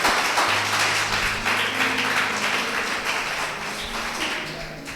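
A church congregation applauds after a sermon, a dense, loud wash of clapping that fades gradually over several seconds, with a few voices mixed into the crowd noise.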